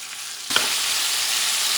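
Ingredients for Puerto Rican asopao campesino sizzle as they fry in a pot, the sound starting abruptly with a bright, steady crackle that holds loud and even without any talk.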